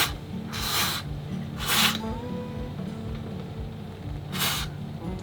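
Corrosion X aerosol sprays onto a boat's thru-hull fitting in three short hissing bursts, close up, with faint handling noises between them.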